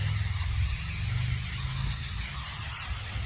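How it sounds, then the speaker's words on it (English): A close, continuous hiss comes from an aerosol paint stripper can spraying a thick wet coat onto a Foxbody Mustang interior panel, steady and unbroken throughout. "Gotta spray it on super thick"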